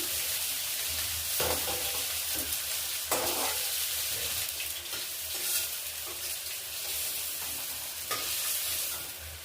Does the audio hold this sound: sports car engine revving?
no